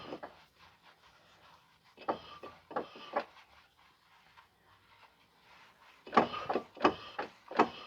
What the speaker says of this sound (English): we're gonna clean the brake rotor now.